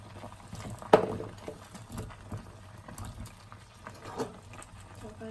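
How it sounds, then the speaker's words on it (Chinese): Ingredients for a tremella silver fungus soup drop into a pot of water at a full boil. A splash lands near the start and another comes later, over quiet bubbling and pattering liquid close by. "大火烧开后，我们下入准备好的食材"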